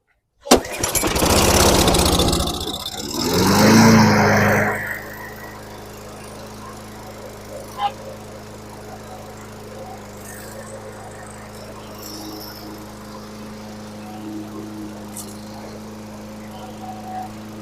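A 2008 John Deere JS35 rear-wheel-drive lawn mower starts on a single pull: a sharp recoil yank, then the engine catches and roars loudly for a few seconds before settling into a steady idle, with crickets faintly audible behind it.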